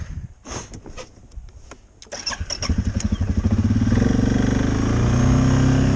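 An off-road vehicle engine in cold weather cranks and catches after a few sputters, then settles into a loud, steady rumbling idle that builds and holds close by.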